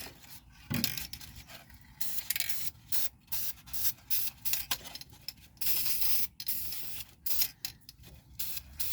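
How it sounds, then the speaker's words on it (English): Repeated bursts of hissing from a two-handed spray gun start and stop in an uneven rhythm, close and steady, with occasional light handling noise and no voices. "The two-handed sprayer."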